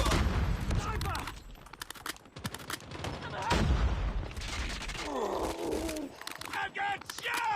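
Dense bursts of automatic gunfire and distant booms fill a 10v10 team deathmatch on the Hackney Yard map in a video game, continuous and loud, with game voices shouting over the shooting.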